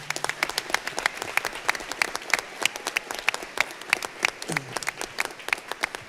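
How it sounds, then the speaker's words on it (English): An audience at a school board meeting applauding the coaches, a steady round of hand claps with individual claps standing out, moderately close, lasting several seconds. "So coaches, let's give them a round of applause one more time"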